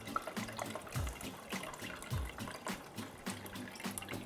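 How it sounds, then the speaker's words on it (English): Tap water pours into an Instant Pot while a bitter melon and pork rib soup is being made, a faint, steady trickle with splashy surges, heard alone without talk. "Now I'm going to fill it up with water."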